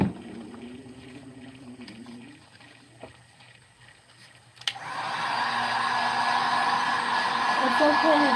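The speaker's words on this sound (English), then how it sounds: "Well, my heat gun." A heat gun blows onto a glitter tumbler coated in hairspray, starting up abruptly partway through as a loud, steady rushing whoosh after softer sounds and brief talk.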